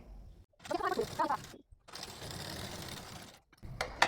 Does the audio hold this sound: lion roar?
no